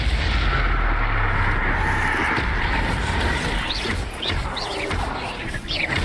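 Confringo spell blasts in the Hogwarts Legacy video game, booming in a dense, continuous barrage of magical explosions with faint high chirps layered on top.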